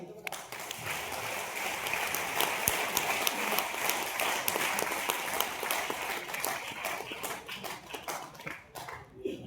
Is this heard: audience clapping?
yes